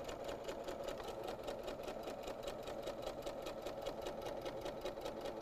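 Sewing machine stitching a paper-pieced quilt block, running steadily and continuously with a fast, even mechanical whir and rhythmic needle clatter, close and alone with no voices.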